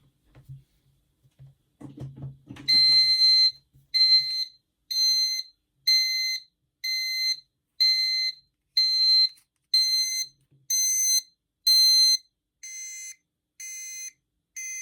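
A power-outage alarm gadget gives loud electronic beeps in a steady repeating pattern, roughly one long high-pitched beep per second, continuing alone after a brief rustle at the start.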